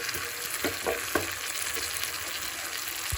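Curry leaves and spices sizzling in hot oil in a pan, a steady close frying hiss broken by a few light clacks of stirring.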